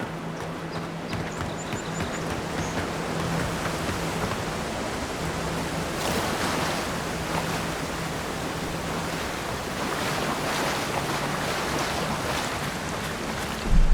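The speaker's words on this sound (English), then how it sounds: "Oh no, I'm looking at the waterfall." A waterfall in the video game Avowed gives a steady, dense wash of rushing water that holds evenly throughout, broad and loud like constant surf, with a faint tonal hum beneath.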